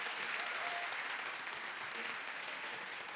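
A room full of people applauds steadily for about three seconds, dense even clapping at moderate distance with no talking.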